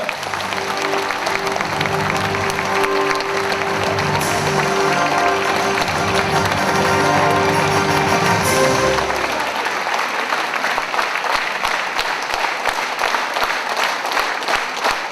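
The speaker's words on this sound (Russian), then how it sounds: "Давайте мы бурными аплодисментами поприветствуем." Loud, sustained applause from an audience welcoming honored heroes, a full wash of clapping with a low musical drone underneath for the first part before the clapping continues on its own.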